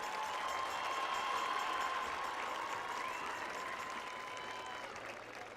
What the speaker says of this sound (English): a warm round of applause for our homecoming court